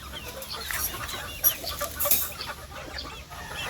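Chickens cluck and squawk in a flock of young roosters on a backyard farm, with a couple of louder calls standing out over steady background clucking.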